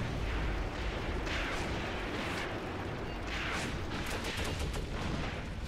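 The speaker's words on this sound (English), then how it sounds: "Still a lot of mortar fire and artillery fire coming in." Continuous rumbling barrage of mortar and artillery fire in the World War II game Cross of Iron, with booms blending into a steady, dense roar of distant impacts throughout.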